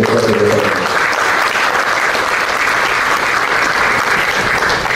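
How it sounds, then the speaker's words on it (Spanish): A loud, dense round of applause from the audience at a Peruvian panel debate on party energy plans, sustained evenly from start to finish, with a brief voice underneath at the very beginning. "denos un fuerte aplauso que hayan contestado el debate"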